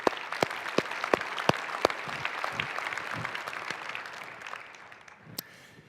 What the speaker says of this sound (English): I think that deserves a round of applause for our finance team.